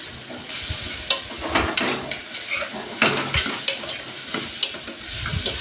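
Onions frying in a pan for a Telugu-style boti (goat tripe) curry, a steady hiss of sizzling with repeated scraping and stirring clinks of a utensil against the pan, close and fairly loud, no voices.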